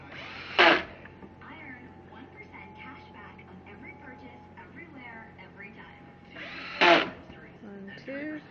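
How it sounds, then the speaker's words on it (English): A power drill drives screws into fake fence posts in two short, loud whirring bursts several seconds apart, with a person talking quietly in between. "Two more holes drilled. And now the screws."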